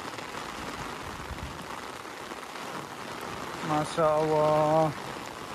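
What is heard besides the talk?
heavy rain in a mountain village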